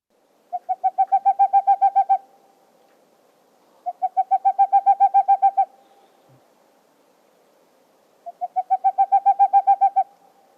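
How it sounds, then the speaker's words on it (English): A boreal owl gives three series of rapid, evenly spaced hoots, each run lasting about two seconds and rising slightly, separated by quiet pauses. "So we're talking about the boreal owl."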